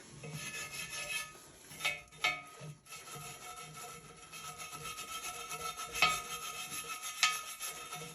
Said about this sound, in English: Once you've gone over this with the pretty coarse brush like this is